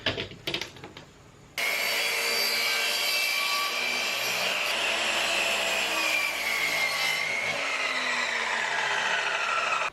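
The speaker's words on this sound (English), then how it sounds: "I'm just going to mark this at a 45 and cut it with my miter saw there" After a few faint clicks, a miter saw spins up and bites through a board at a 45-degree angle, a loud, sustained whining cut lasting several seconds close to the listener, with no voices over it.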